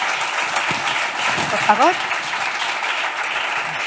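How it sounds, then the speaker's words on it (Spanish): Audience applause for panelists at a debate forum on physical activity and health, steady clapping filling the room while a voice speaks briefly over it. "Un fuerte aplauso para ellos."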